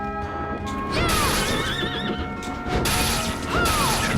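A water horse enemy in the video game Bloodstained, heard as repeated loud neighing whinnies with rising and falling pitch over game sound effects and background music, with a couple of sharp impact hits.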